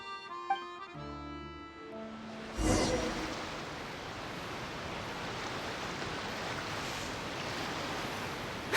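A tourist boat sails over ocean waves in Genshin Impact, a continuous rushing wash of water and wind that swells after a short musical chime intro, steady and fairly soft.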